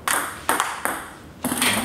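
Crisp, ringing clicks of a table tennis ball striking a WING SPAN racket blade, four impacts at an uneven rally pace, close and clear.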